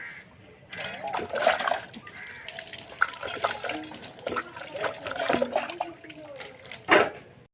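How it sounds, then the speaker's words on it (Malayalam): Dishes are washed with water carried from a tank, giving close, uneven bursts of splashing, sloshing and trickling water, with someone talking at times. "ടാങ്കിൽ നിന്നൊക്കെ വെള്ളം കൊണ്ടുവന്നിട്ട് അങ്ങനെ പാത്രമൊക്കെ അവിടെ വെച്ചിട്ട് കഴുകിയെടുക്കുകയാട്ടോ ചെയ്തത്"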